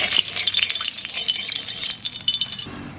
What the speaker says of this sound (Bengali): এবার আমি তরকারিটা নামিয়ে ফোড়ন দেবো।